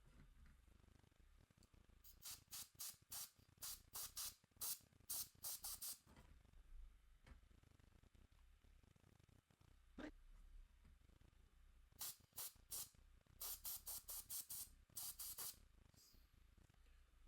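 Fine paint spray from an airbrush misting a Tyranid miniature, heard as repeated short hissing bursts in two clusters, close and fairly loud over a quiet background with no talk.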